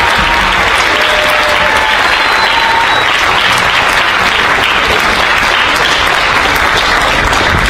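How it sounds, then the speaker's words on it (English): An audience at a high school spring concert applauds a school band, loud steady clapping filling the room throughout without a break. "So I'd like to give them another round of applause for their really great talent."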